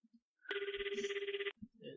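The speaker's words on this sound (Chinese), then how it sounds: "这是电话声吗？" A telephone bell rings once in a single sustained trilling burst, close and clear, in the horror RPG puzzle video game Ling Jing, with faint knocks around it.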